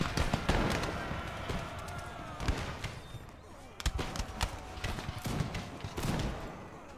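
Musket volleys and cannon fire from an Empire Total War battle in Greece sound as scattered sharp cracks and thumping booms at mixed distances, irregularly spaced over a continuous battlefield din.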